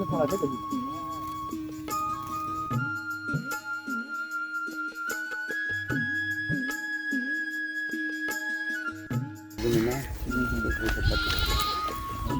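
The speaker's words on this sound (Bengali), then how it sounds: "যতটুক বেঁচে আছে সেইটুকু জায়গাতে গবাদি পশুগুলো ঘাস খাচ্ছে" Farm livestock grazing on a Padma riverbank char at Char Khanpur, Rajshahi, bleat close by in repeated wavering calls, with a louder, busier stretch of outdoor sound near the end.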